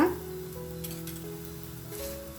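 Lachha paratha made from whole wheat flour fries in oil on a pan, with a steady soft sizzle running throughout and faint clinks and tones over it.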